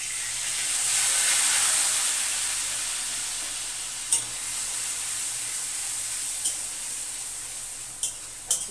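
Ginger, garlic and onion tipped into a hot wok, a bright hiss of sizzling that flares up at first and then settles, with a few sharp clinks of a utensil against the pan.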